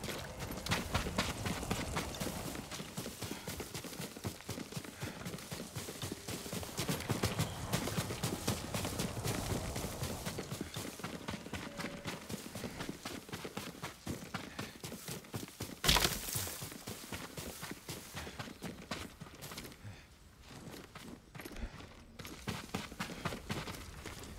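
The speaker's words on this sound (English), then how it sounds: "Yuriko's horse." A horse's hooves clip-clop steadily in the video game Ghost of Tsushima Director's Cut, a continuous moderate walking rhythm with a single louder thump partway through, fairly soft and without talk.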